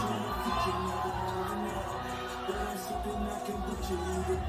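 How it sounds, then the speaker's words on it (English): Wrestling crowd at a WrestleMania night 2 event, a dense wash of cheering, shouting and whoops that fills the space continuously without a break. "They're all cheering them."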